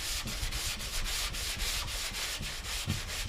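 Hand block sanding of primed bodywork on a 1977 Malibu Classic, steady rhythmic rasping strokes back and forth, close and fairly quiet, with no talking.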